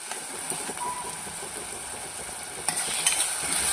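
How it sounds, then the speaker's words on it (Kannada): Ingredients for masala oats fry in a hot pan with a steady, loud sizzle, and a spoon scrapes and clatters against the pan now and then as it stirs. "ಇದು ಜಾಸ್ತಿ ಫ್ರೈ ಆಗೋದೇನು ಬೇಕಿಲ್ಲ ಸ್ವಲ್ಪ ಒಂದು ಸಿಕ್ಸ್ಟಿ ಪರ್ಸೆಂಟ್ ಇದು ಕುಕ್ ಆದರೆ ಸಾಕು"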